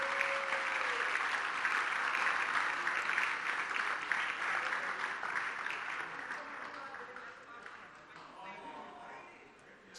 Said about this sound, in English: A round of applause for this group of winners.